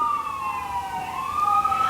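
A wailing emergency siren rises and falls in a steady sweep, carrying clearly with some distance and no voices over it.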